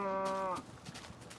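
A single short, low moo from a blocky Minecraft cow, clear and close against quiet background, cut off abruptly after about half a second.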